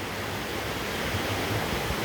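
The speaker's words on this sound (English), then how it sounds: "That's the river there. A lovely river." A forest river rushes in a steady, broad wash of flowing water that holds at an even level throughout, with no voices over it.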